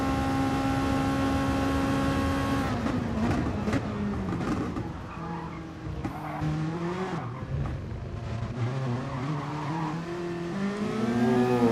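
A Honda NSX race car at Spa Francorchamps in a racing video game, engine droning loudly and steadily, with gear changes shifting the pitch and brief tyre squeal as it works through the lap.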